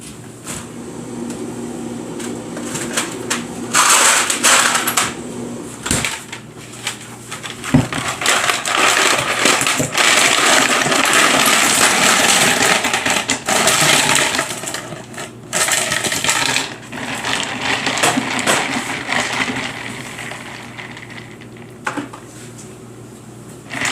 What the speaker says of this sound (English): And then I will add some ice to this.